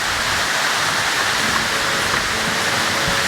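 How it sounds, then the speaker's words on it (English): A large waterfall at Cloudland Canyon roars as a loud, steady, close wash of falling water with no voices. "I think this is probably one of the bigger waterfalls we've seen."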